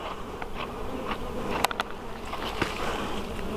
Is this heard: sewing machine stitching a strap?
no